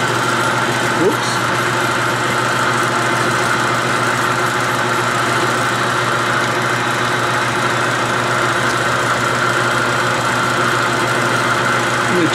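Metal lathe turning at roughly 300 RPM while working on a trailer tongue extender, a loud steady motor hum and mechanical drone with faint rattling vibration, constant from start to end.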